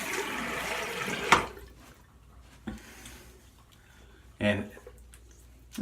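Water splashes in brief bursts as a face is rinsed during a wet shave, a few short close sloshes and drips separated by quiet gaps, with someone talking.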